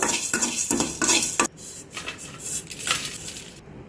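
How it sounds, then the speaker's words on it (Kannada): Mustard seeds, fenugreek and black pepper dry roasted in a pan, with a spoon clinking and scraping against the metal in quick strokes, loud and close, then softer stirring with no one talking. "1/4 ಟೀ ಸ್ಪೂನ್ನಷ್ಟು ಸಾಸಿವೆ, ಸ್ವಲ್ಪ ಮೆಂತೆ, ಸ್ವಲ್ಪ ಕರಿಮೆಣಸು. ಇವಿಷ್ಟನ್ನು ಡ್ರೈ ಆಗಿ ಫ್ರೈ ಮಾಡ್ಕೋಬೇಕು"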